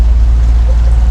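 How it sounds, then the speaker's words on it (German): A sailboat's engine drones while motoring without wind on an Atlantic crossing from Martinique to the Azores, a loud, steady low rumble with no voices. "Wir fahren unter Motor."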